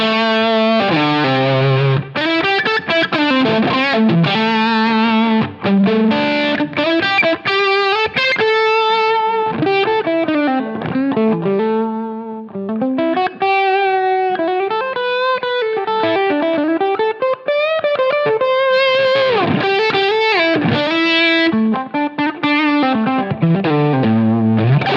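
An electric guitar played through a Diana Drive overdrive, gritty distorted chords and melodic lines ringing continuously and loud, with no talking.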